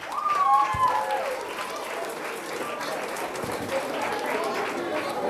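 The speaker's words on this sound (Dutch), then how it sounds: "En Huub Koenig, geef hem een geweldig applaus" Audience applause at a Limburg carnival (vastelaovend) show as a performer is welcomed, a continuous even wash of clapping lasting several seconds with a brief voice near the start.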